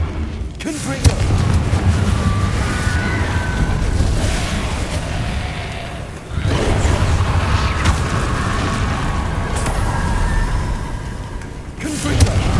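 Confringo blast spells explode in Hogwarts Legacy, with loud rumbling booms layered over dense, continuous combat noise and game music, a brief dip midway before the roar resumes.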